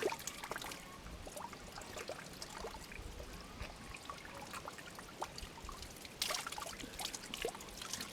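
Water from a forest spring trickles and pours softly at close range, a faint continuous burble with scattered drips and a brief louder splash.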